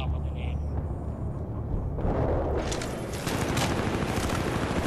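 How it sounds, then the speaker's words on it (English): Grenade blast and heavy gunfire in a Battlefield: Bad Company 2 match, a loud burst from about two seconds in that rolls into sustained crackling fire, with players talking over it. "I just ran on top of a grenade."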